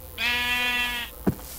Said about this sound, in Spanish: Aquí es donde tienen a sus ovejas, ¿no?